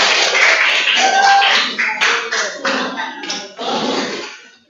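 A classroom of seventh-grade students clapping together, loud and close, the applause thinning into a few scattered bursts of claps before fading out.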